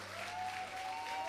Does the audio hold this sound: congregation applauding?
yes